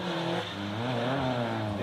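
A Mazda Miata drifts in the rain, its engine held at a steady, droning rev close by for a short stretch, with no talking.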